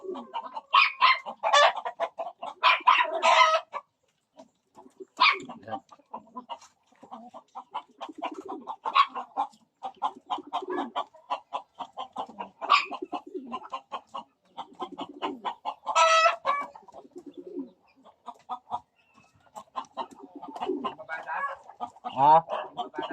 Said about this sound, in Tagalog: Ito po yung mga kalapati natin